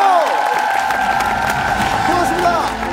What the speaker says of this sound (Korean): 여러분들 큰 박수로 부탁드리겠습니다.